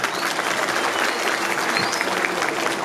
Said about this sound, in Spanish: Regálales un aplauso también para ellos.